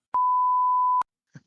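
A Discord soundboard beep plays as a single pure steady tone lasting about a second, cutting off abruptly, followed by a brief faint murmur.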